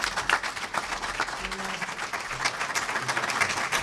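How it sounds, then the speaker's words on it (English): An audience at an alumni panel claps for the panelists, a dense, sustained round of applause from a sizable crowd with a faint voice or two underneath. "one more round of applause for our panelists."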